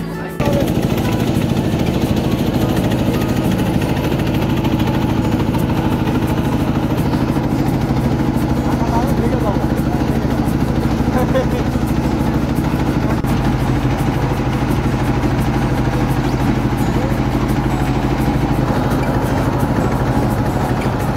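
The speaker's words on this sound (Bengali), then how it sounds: "এখনই আমাদের ছোট নৌকাটি ছাড়া হবে।" A small boat's motor in the Sundarbans chugs loudly and steadily, a continuous mechanical rumble with a rattling edge that holds at the same level for the whole stretch.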